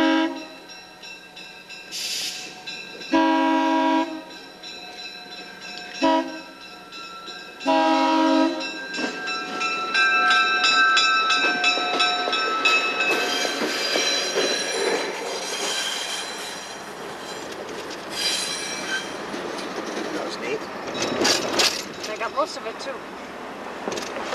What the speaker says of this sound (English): We got a small choo-choo coming.